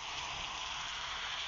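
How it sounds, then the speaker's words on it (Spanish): Steady broadband hiss of newly added video game rain sound effects, continuous and even throughout without distinct drops or pauses. "Agregaron nuevos sonidos de la lluvia, güey."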